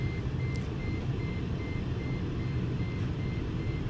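A repeated short electronic beep pulses steadily every half second or so at a fixed pitch, an alarm going off with no visible source, over a constant low rumble of engine or road noise.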